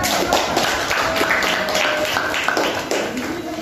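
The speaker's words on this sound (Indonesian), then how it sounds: "Berikan tepuk tangan." Classroom group clapping after a student presentation, a dense, fairly loud patter of many hands that carries on steadily for several seconds with little talk over it.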